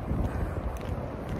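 Strong wind gusts across the microphone on a dark, windy early morning, a steady low rumbling roar with no pauses.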